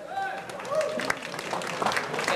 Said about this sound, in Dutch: een applaus voor Kim Wuitens.